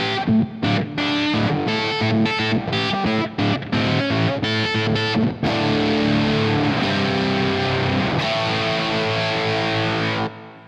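Heavy fuzz-distorted electric guitar riff, starting with choppy, stabbing chords and then moving into sustained, thick, saturated notes, played loud and alone.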